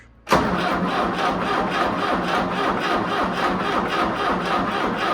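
An MTZ 82 tractor engine fitted with a TKR 6 turbocharger fires abruptly and settles into a loud, steady, pulsing run, close up, with no talking.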